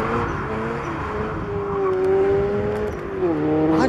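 A turbocharged Toyota GT86 driving on the Nürburgring GP track: a continuous engine drone with pitch rising and falling through gear changes, heard from inside the car without talk.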